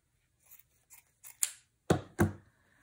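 Scissors slice through a large piece of fabric in several crisp snips, the first few small and quiet, then two louder, fuller cuts near the end, heard alone without any talking.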